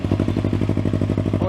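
Yamaha MT03 motorcycle engine fitted with a Leo Vince LV One titanium full exhaust, idling with a fast, even, throbbing pulse and a strong low hum, close and loud, steady throughout.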